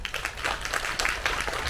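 Audience applause at a Guangzhou school science-teacher exchange event welcoming visiting guests, a steady patter of many hands clapping in a hall at moderate loudness.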